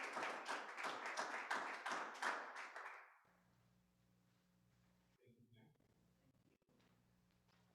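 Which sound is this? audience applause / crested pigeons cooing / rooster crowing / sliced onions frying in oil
audience applause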